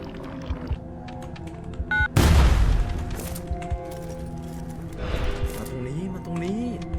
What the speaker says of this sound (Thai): โอ้ยโดนระเบิดเหรอ